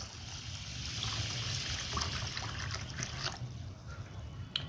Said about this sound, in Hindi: अभी इसके अंदर डाल दूंगा मैं 1 लीटर पानी।